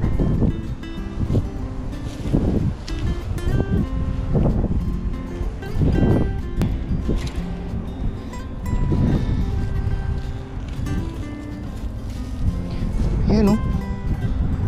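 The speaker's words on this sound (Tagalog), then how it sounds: "pagpasensyahan nyo na po kung maingay yung video natin dahil mahangin na po." Strong wind blowing outdoors, buffeting the microphone in rough gusts and roaring in bursts throughout, under a person talking nearby.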